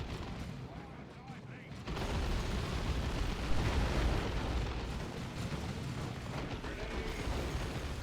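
Grenade blasts in Dawn of War 2, a Warhammer 40,000 real-time strategy match, burst out after a quieter opening and keep rumbling as a dense wall of battle noise with gunfire and several sharp pops.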